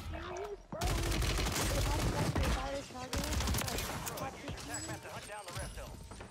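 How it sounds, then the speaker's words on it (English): A shotgun loaded with fire rounds booms in Warzone 3 gameplay, a quick run of loud, close blasts with a brief pause partway, while a player talks over the shots. "He has a shotgun with fire rounds"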